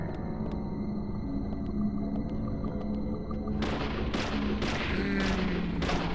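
Gunshots fired at an enemy in the game Deadly Premonition on Switch 2: a series of sharp, loud cracks in quick succession after a calmer stretch of ticking game ambience, with no voices.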